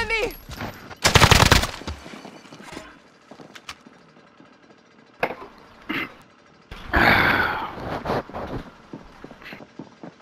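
Gunfire in the video game Call of Duty: Modern Warfare: sharp bursts of rapid shots with scattered single cracks and pauses between, some loud and close, others fainter, mixed with player voices talking.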